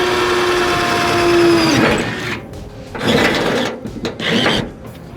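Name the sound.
drill boring through a floor mat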